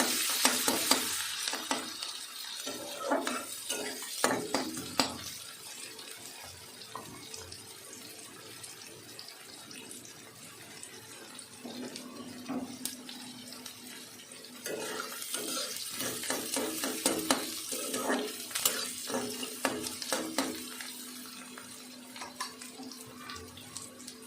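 Medium onion frying in a pan with cumin seeds, a steady sizzle broken by repeated scraping stirs, close up and alone, with a burst of louder crackling midway.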